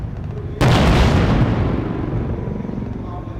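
Soldiers in a fire-and-move drill open up with a sudden loud boom or burst of weapon fire that rolls off into a long fading rumble.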